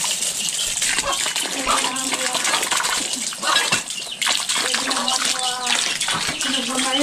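Mountain spring water pours and splashes continuously nearby, a loud, steady gush in an outdoor rural setting in Occidental Mindoro, with a few brief voices faint under the flow.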